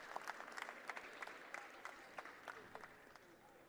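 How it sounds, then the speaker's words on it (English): Crowd applause at a women's college basketball game between Catonsville and Montgomery College, a steady, moderately distant patter of clapping with scattered sharper claps rising and falling under the arena noise. "You can hear the applause of the crowd in the background"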